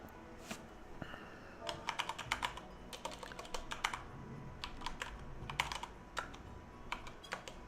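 Rapid typing on a computer keyboard, clusters of crisp close keystrokes in irregular bursts over a low room hum, with no talking.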